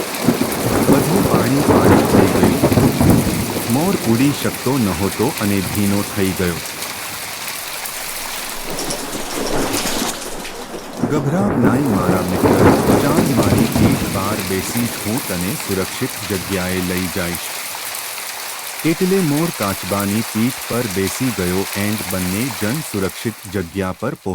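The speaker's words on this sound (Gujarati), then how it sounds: "એક દિવસ જંગલમાં ભારે વરસાદ પડ્યો" Heavy rain pours in a dense, constant roar, with rumbling thunder, under a melodic background that drops out briefly twice.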